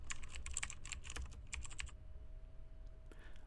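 A formula is tapped out on a computer keyboard in a burst of quick, close keystrokes, faint and alone, then the typing stops and a quiet pause follows.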